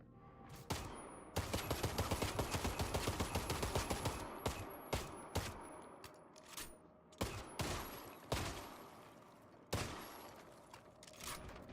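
Alt-fire gunfire in the roguelike shooter Armatus: a loud rapid burst of shots rattling for a few seconds, followed by scattered single heavy blasts spaced a second or so apart.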